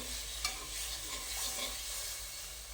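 Soft, continuous stirring of a jaggery and wheat kheer mixture as milk is worked in, a faint sloshing and gentle scraping in a pot with a light hiss, low and close with no talking.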